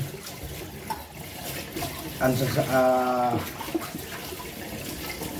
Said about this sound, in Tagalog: Ito yung hugas sa mulaan ng tubig.